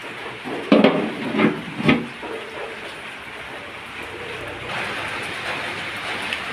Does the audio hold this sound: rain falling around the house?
yes